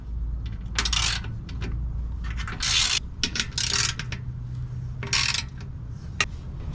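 Ratchet with a 13 socket backing out skid plate bolts on a GMC Canyon, several short bursts of rapid clicking separated by pauses, close and crisp.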